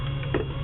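Soft mechanical whirring and a light ticking from the cable moving inside an Epson R2880 printer with a continuous ink system, a continuous low hum with a brief click in the middle.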